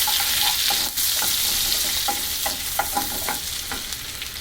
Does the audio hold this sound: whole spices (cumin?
yes